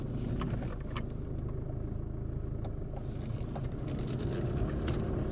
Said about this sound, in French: Et la voiture enfin reprend la route.